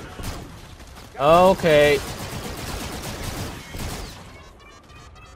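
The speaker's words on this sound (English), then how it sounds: "I don't know how I can turn down the gunfire" Rapid bursts of gunfire in Call of Duty: Infinite Warfare crackle through a busy, noisy space-battle mix, with a brief spoken word partway through.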